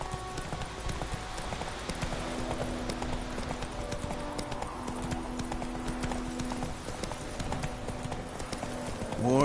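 Horse hooves clip-clop at a steady galloping rhythm in The Witcher 3, continuous and moderately close under ambient game sound, with no talking over it.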